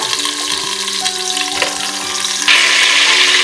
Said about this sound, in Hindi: अब मैं सबसे पहले पायों को इसमें डाल के फ्राई करूंगी